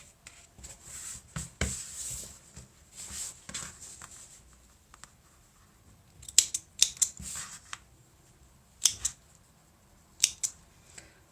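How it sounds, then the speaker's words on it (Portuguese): Scissors snipping sewing threads on a handmade fabric pouch, with soft handling rustles first and then several sharp, close cuts in quick pairs, no voices. "Vou cortar essas linhas."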